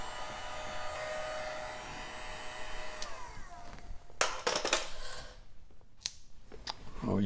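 A heat tool blows steadily on a low setting to warm the adhesive strips on a 1968-1977 Corvette C3 door panel, a close whirring hiss that cuts off partway, followed by sharp handling clicks and taps.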